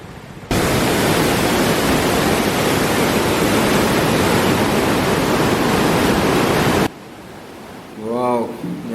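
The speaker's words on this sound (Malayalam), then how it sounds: "ഇവിടുത്തെ വെള്ളം ഒഴുകുന്നൊന്ന് കാണാം" Floodwater rushes loudly and steadily during heavy monsoon rain in Kerala, a dense wash of torrent noise that runs unbroken for about six seconds, then cuts off abruptly to quieter ambience with a brief voice-like sound.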